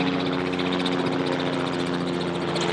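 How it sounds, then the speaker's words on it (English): Steady, loud rotor and engine drone of a low-flying Robinson R44 helicopter, continuous throughout with a rhythmic chopping texture and no voices. "that helicopter's low wherever he is"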